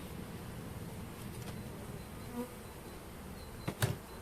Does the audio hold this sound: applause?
no